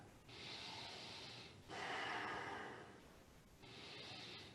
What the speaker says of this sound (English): As you breathe in deeply, breathing in your life force.